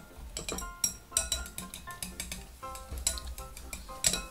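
Five beaten eggs with chili tuna are whisked in a bowl, quick repeated clinks and taps of utensil against the dish in an uneven rhythm, close and fairly quiet, with no talking.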